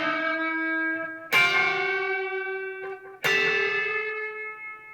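Electric guitar working through a blues lick, two sharp attacks each followed by a held whole-step bend against a sustained note, ringing and decaying with light drive, no voice over it.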